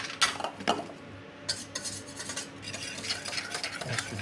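Sifted flour and baking powder are mixed into a madeleine batter in a bowl, giving brisk, close scraping and rubbing strokes in uneven bursts over a few seconds with no talking.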